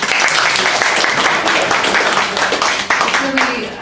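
An audience applauds a speaker after a lecture on health insurance quality measurement, a loud, dense burst of clapping with some voices mixed in, tapering slightly at the end.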